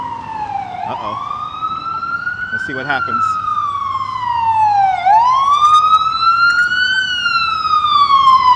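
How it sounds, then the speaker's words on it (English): An ambulance siren wails loud and close on a Brooklyn street, its pitch sweeping up and down in long steady cycles beneath city traffic noise, while a person speaks briefly over it. "And we have an ambulance coming down."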